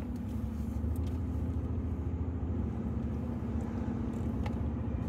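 A car drives along the Needles Highway, with a steady low engine and road rumble heard from inside the cabin and a few faint clicks and knocks.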